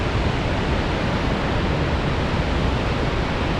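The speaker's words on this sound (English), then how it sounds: "Grab a different angle of Twin Falls here. See the river well." Flooded Twin Falls waterfall and river in a Tennessee state park roar as a steady, dense, loud rush of water, unbroken and with no voices over it.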